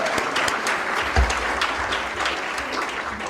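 An audience at Developmental Disabilities Day at the Legislature claps steadily in a continuous wash of applause, loud and sustained throughout, with no voice standing out.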